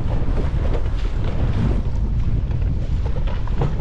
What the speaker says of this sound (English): Too dang windy and too nasty out there.